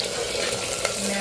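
Chopped vegetables and tomato hit hot oil in a pressure cooker, giving a loud, steady close sizzle with a faint scrape of stirring.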